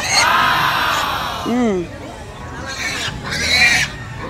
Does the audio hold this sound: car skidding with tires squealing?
no